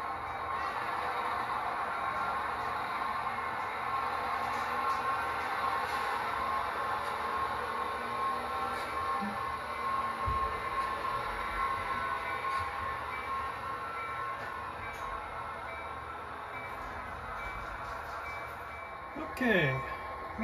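A Milwaukee Road freight train with a transfer caboose rolls along in a steady low rumble with faint squeals, a brief sharp sound near the end, and someone speaking over it.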